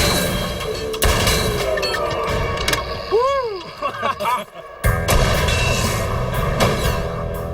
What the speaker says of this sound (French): le calibre 50 est l'arme la plus puissante de tout l'arsenal des Mythbusters